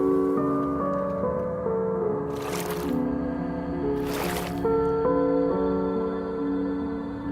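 Water in the mystery-doors escape video game makes two short, splashy sloshes over continuous, tonal in-game music.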